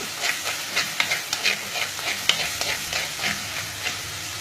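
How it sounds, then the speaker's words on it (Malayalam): Ingredients sauté in hot oil for a Kerala fish curry, with a steady sizzle under repeated light scrapes of a spoon stirring the pan. The sound is close and moderately loud, with no talking. "നമ്മൾ ജസ്റ്റ് ഒന്ന് എണ്ണയ്ക്കകത്തൊന്നിട്ട് ഒന്ന് മൂപ്പിച്ചെടുക്കുകയാണിത്"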